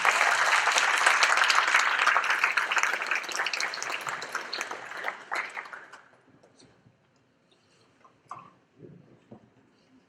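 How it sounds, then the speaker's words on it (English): A concert audience at the Kinnari Music Festival 2023 claps loudly after a Carnival of the Animals performance, the dense applause fading out over several seconds into a few quiet knocks and near silence. "Big round of applause for the Carnival of the Animals."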